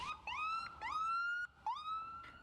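Ambulance siren wailing in repeated rising sweeps while stuck in traffic congestion, steady and fairly distant, with no voices.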